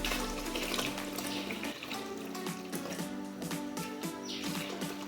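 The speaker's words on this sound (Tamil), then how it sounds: "இனி பால் விடுவோம் ஒரு கப் தண்ணிக்கு ஒரு கப் பால்" Milk streams into a pan of water for milk payasam, a continuous close pouring and splashing sound with bubbly trickles, heard alone without talking.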